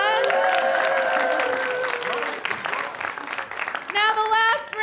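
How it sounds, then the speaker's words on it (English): A church congregation at a Sunday service gives a quiz contestant a round of applause, the clapping fairly loud and sustained for a few seconds, then fading as a voice speaks and music or a jingle comes in. "Can we get a big round of applause?"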